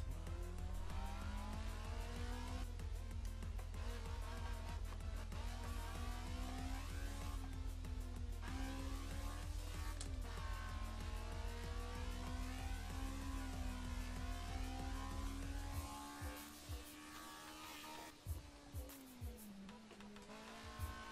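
A Honda FD6 race car engine in the game Assetto Corsa revs hard and climbs in pitch as VTEC engages, holding a high, sharp whine before dropping off, with a few quick bumps and clatters near the end, on a mountain road.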